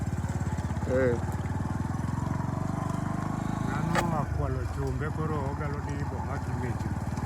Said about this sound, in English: We've been going on a motorcycle ride the whole day today.